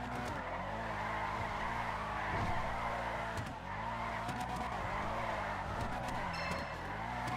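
A car in a multiplayer roleplay driving game races with a steady droning engine and repeated tire squeals and skids, loud and continuous throughout, with no talking.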